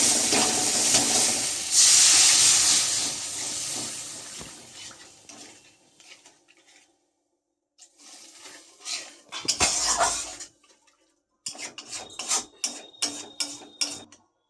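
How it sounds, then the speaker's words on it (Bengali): Water hits hot fried masala with coriander leaves in a pan while cooking a pomfret fish curry, giving loud hissing sizzles in bursts separated by quiet gaps, with metal utensil scrapes and clatter. "সে মশলাটা কষানো হয়ে গেছে এবার জল দিয়ে দেবো"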